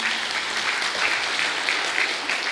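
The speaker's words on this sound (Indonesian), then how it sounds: "mari berikan tepuk tangan" A church congregation applauds after a drama performed during a Sunday service, with continuous, lively clapping from many hands at an even, fairly loud level for the whole moment.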